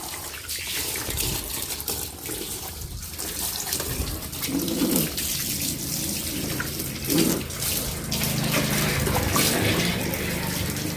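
Water gushes steadily from a hose onto a scooter being washed outdoors, a continuous splashing rush with brief surges and faint birdsong in the background.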